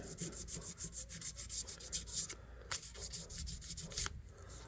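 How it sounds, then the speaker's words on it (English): A vintage knife is sanded by hand with 3000-grit sandpaper, giving close, steady rhythmic rubbing strokes in a quick back-and-forth pattern, quiet and even with brief pauses. "we'll use a little sandpaper here. Again, this is like 3000 grit. So here we go, we just sand away."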